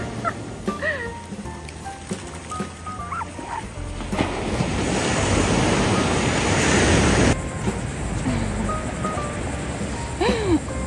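Ocean waves breaking at a beach in wind, with a broad rushing surge building in the middle and then cutting off, under faint scattered voices and small sounds nearby.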